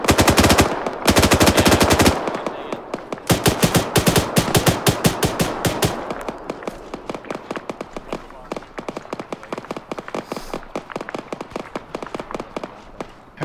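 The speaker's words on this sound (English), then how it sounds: "I like that gunshot" Rapid automatic gunfire rips through an ARMA 3 combined arms battle, loud sustained bursts followed by a long run of sharp, evenly spaced single shots, with voices talking over parts of it.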